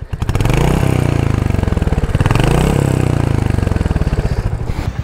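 Close up, a 350 cc Royal Enfield Hunter 350 motorcycle idles with a loud, even single-cylinder thump, briefly swelling with light throttle blips before settling back.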